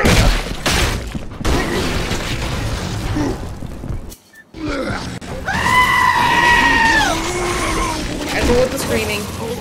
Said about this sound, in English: Careful with the screaming.